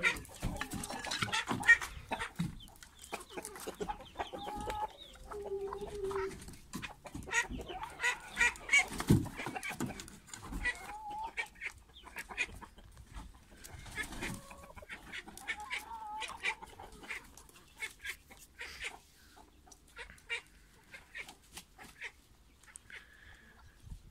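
Chickens being let out of their coop early in the morning cluck and chatter in an irregular stream close by, with a few louder squawks and a duck's quack mixed in.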